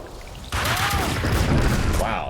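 A grenade blast in Max Payne 2 erupts suddenly after a quiet moment, a loud close boom followed by a dense rumbling crackle of debris and gunfire-like noise with a few whooshing tones.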